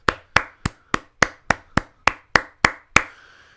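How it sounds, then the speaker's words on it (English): Eleven sharp hand claps ring out in a steady, evenly spaced rhythm at a barbershop, close and distinct with a short decay after each, and no talking. "Round of applause from me."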